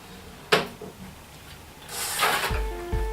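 A FORM MATE vacuum forming machine's frame being split open after its quick release bolts are loosened: a sharp clack, then a longer scraping, clattering metal movement ending in a couple of low thuds.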